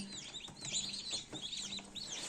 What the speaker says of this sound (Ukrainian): Півень породи чорномідний маран, а кури крос домінант янтарний.